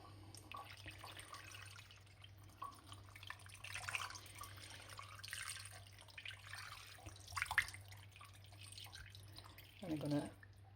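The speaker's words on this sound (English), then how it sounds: "Now I'm going to add in my cold water." Cold water runs faintly into a cooking pot for bacon and cabbage, a soft trickling with a few brief splashes near the end.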